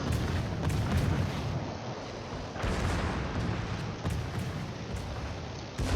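In a naval warfare video game, the battleship Georgia's big guns fire in heavy booming salvos, a few dull artillery blasts and rumbling echoes following one another, with no talking.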